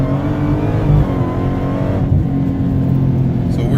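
A car accelerates hard on a freeway, running on fuel treated with Boostane Professional octane booster. The engine drone is loud and steady, with a strong low hum and rising harmonics that swell as it pulls.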